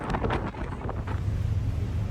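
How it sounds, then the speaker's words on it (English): Wind buffets a microphone with a steady low roar and rumble, gusting slightly throughout, with no voices. "It's been windy."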